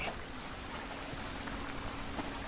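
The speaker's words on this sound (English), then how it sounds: "See how the rain gets louder?" Steady rainfall in a video game's dynamic weather hisses continuously, a dense, even patter of drops on a surface with no voices.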